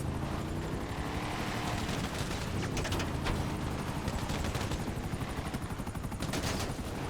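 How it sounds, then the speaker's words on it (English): Helicopters approach in GTA Online, a loud continuous rotor thrum with bursts of gunfire crackling over it throughout, no talking. "Alright, here come the helicopters."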